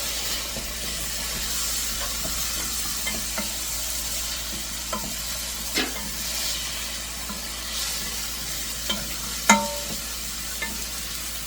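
Garlic sizzles in a pan on a lowered flame, frying steadily and close by while a utensil scrapes and stirs it now and then, with no one talking.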